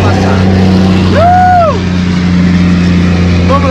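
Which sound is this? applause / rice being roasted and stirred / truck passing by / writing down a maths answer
truck passing by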